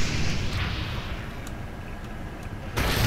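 A rocket explodes in Brutal Doom: a dull, muffled blast leads into a rumbling low roar, with a sharper burst near the end, heard fairly close and without talking.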